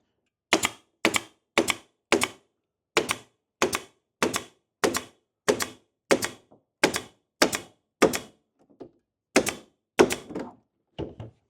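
A nail gun drives nails into a board on a chicken coop, firing about eighteen sharp, snappy shots in a steady rhythm with brief pauses, close and crisp, with no one talking.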